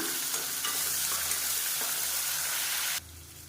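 Onions sauté in a pan for kootanchoru, giving a steady close hiss with light stirring scrapes for about three seconds before the sizzle drops away to a quieter low hum.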